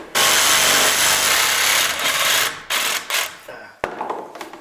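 Jigsaw cutting a wooden rafter for a colonial shed build, a loud continuous buzzing rasp of the blade through timber that falters and breaks into shorter bursts toward the end, with a sharp knock near the close.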